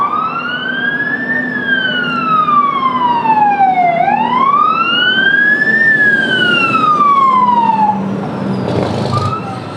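Loud wailing fire truck sirens at a Fourth of July parade in Ketchikan rise and fall in long sweeps, continuous and close, with a brief blast of noise near the end.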